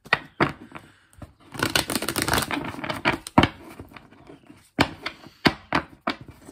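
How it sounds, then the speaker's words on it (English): Tarot cards being shuffled by hand close up, with bursts of riffling and several sharp taps and thumps as the deck is squared on a table, with no talking. "Let me get my clarifying deck out, shuffle it, and see what we've got for you."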